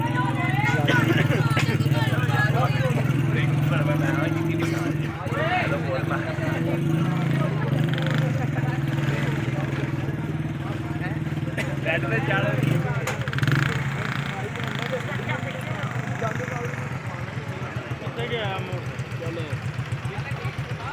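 Steady engine drone of passing motorcycles, cars and Toyotas arriving at a weekly Dawat-e-Islami religious gathering, fairly close, with a loud idling rumble early on and a busy crowd murmuring throughout.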